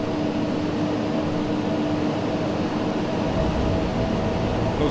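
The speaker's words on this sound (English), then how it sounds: "Reversers deployed." Airbus A300 thrust reversers roar on landing in X-Plane 11, a loud, steady broadband rush of engine noise that deepens slightly partway through.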